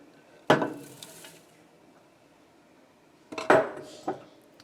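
A spoon scrapes and knocks against a pot of broccoli cheese soup made with cream and onions, in two short clanking bursts separated by a quiet stretch with low background hum.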